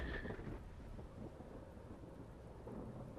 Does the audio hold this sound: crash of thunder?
yes